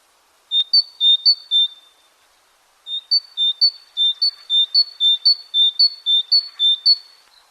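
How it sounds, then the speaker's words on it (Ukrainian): A small bird sings in clear, repeated high chirping phrases: a short burst, a pause, then a longer run of bright, evenly spaced notes, close and loud. "І пташечка співає."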